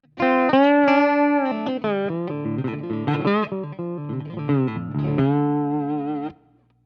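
An electric guitar plays a melodic phrase through a Tungsten amplifier set at 4, clear sustained notes with slight distortion and a little added room reverb, ending in quiet.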